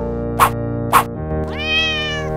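The cat from a Spanish Puss in Boots cartoon meows clearly over a musical background, with two short bright notes first and then a drawn-out rising and falling meow.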